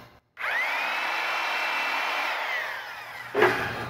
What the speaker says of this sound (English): And then I just drill into where the screw goes.